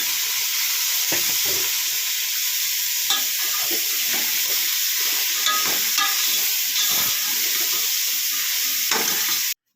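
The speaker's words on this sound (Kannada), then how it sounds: "ತರಕಾರಿ ಮತ್ತು ಸೋಯಾಬೀನ್ ಎಲ್ಲ ಚೆನ್ನಾಗಿ ಮಿಕ್ಸ್ ಆಗಬೇಕು ಎಣ್ಣೆಲಿ ಚೆನ್ನಾಗಿ ಫ್ರೈ ಆಗಬೇಕು" Mixed vegetables and soybean chunks fry in oil in a pan, a continuous loud sizzle with intermittent stirring scrapes and clatter, close up and without speech.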